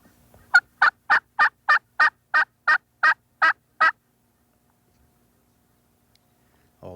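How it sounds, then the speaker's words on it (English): Wild turkey gobblers gobble toward hunting decoys in a rapid, evenly spaced burst of about eleven loud, close calls lasting some three seconds, followed by silence. "The real gobblers throw their legs into second gear and run toward the decoys"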